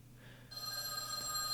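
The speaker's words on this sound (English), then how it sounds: "The phone rang." A telephone in a phone booth rings with a bright, sustained electronic bell tone that starts abruptly and holds steady, faint and alone against a quiet background.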